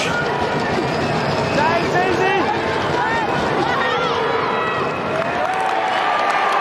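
A large Australian rules football crowd at a VFL Grand Final between Port Melbourne and Williamstown roars and cheers continuously after a goal, a dense, loud wash of voices with shouts and whistles rising throughout.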